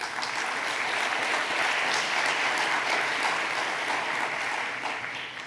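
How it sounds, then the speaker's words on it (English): Applause from a large audience at a Religions for Peace world assembly plenary, welcoming a speaker: a dense, steady wash of many hands clapping that holds at an even level throughout. "please welcome him with a round of applause"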